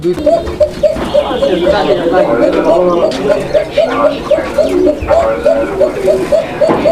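Lahori Sirazi Koka pigeons coo in a loft, a steady run of close, rhythmic, repeated coos over a busy, noisy background.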